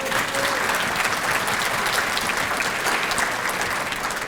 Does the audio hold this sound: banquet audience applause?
yes